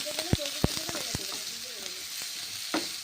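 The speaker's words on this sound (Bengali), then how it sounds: "বেগুন মশলা তেলের সঙ্গে ভেজে নিচ্ছি" Brinjal and ground spice paste fry in hot oil in a wok, a close, steady sizzle broken by several sharp clatters of a spatula stirring against the pan.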